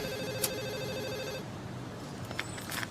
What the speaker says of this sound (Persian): اون تلفن رو جواب بده